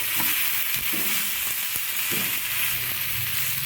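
Tomato slices and white pumpkin sautéing in a pan over medium heat, a steady soft sizzle with occasional scraping stirs of a spatula.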